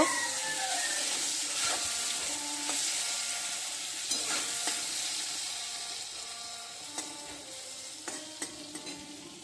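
Brinjal fries in oil in a pan, a constant crackling sizzle with scattered sharp pops and utensil taps, fairly quiet and close, with no talking.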